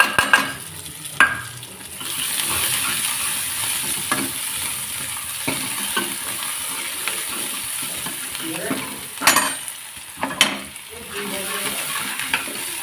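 Onion tossed into a hot pan after the previous ingredient has browned, frying with a steady close sizzle and occasional louder metallic clanks and scrapes of a spoon against the pan.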